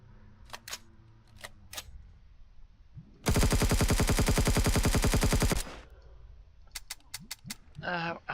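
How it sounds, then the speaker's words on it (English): An assault rifle in the space game Empyrion fires one long, loud, rapid automatic burst lasting a couple of seconds, surrounded by softer clicks, beeps and game effects. "Out of assault rifle ammo."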